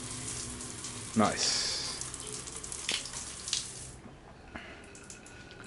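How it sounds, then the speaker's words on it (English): Running water from a normal shower head in a budget hotel bathroom in Bali, a steady close hiss with splashing bursts as the flow is disturbed, while someone speaks briefly over it. "Let's check the shower. It is a normal shower head"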